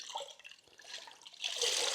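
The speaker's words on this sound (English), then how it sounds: "when I squeeze the water out of the sponge" Water squeezed from a wet sponge during a rinseless wash of a Porsche Cayman 718 GTS 4.0, a close wet dripping and trickling that swells into a louder splashing gush near the end.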